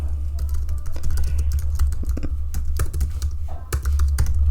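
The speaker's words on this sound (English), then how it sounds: "So let me go ahead and type that in." Rapid typing on a computer keyboard, a close, continuous patter of key clicks over a low steady hum, with no talk.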